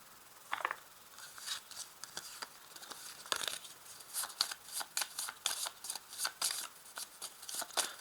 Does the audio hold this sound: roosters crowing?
no